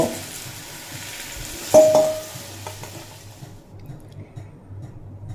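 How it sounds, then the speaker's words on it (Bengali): Potato and green papaya pieces fry in oil with a loud, close sizzle and a clatter of stirring, and the sizzle stops suddenly partway through, leaving quiet. "আর এই ভেজে নেওয়াতেই আলু আর পেঁপে প্রায় সিদ্ধ হয়ে গেছে।"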